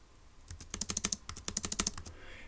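Quick keystrokes on a keyboard while entering a short numeric code, a tight run of about twenty crisp, close clicks in two rapid bursts lasting under two seconds, with no voices.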